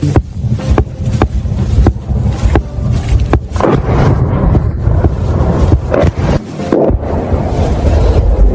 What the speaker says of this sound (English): Right now, the western part is being shelled.